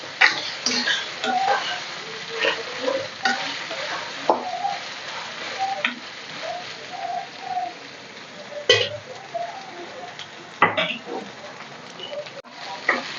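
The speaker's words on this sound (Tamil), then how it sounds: "இன்னும் கொஞ்சம் வெங்காயம் நல்லா வதங்கணுமா. இன்னும் கொஞ்சம் வதங்கட்டும்." Onions sautéing in a pan with ginger-garlic paste for a mutton gravy, a steady close sizzle broken by repeated scraping stirs and spatula knocks against the pan, with no talking.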